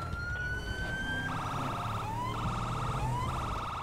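A police siren in a video game wails and then switches to a rapid yelping pattern, steady and fairly loud over a low engine rumble, with no one speaking.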